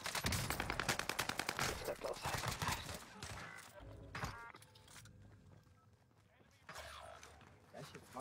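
Rapid bursts of video game gunfire, dense and loud for the first few seconds, then thinning to scattered shots and mechanical clicks, with a second flurry near the end; voices talk over the action.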